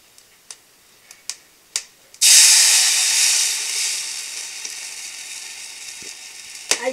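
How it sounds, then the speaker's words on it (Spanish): Chili salsa of chiltepe and tomato drops into a hot clay cazuela and bursts into a loud, steady sizzle of frying that slowly settles, after a few soft ticks and taps. "Ya tenemos nuestra cazuela caliente. Ahora lo vamos a freír."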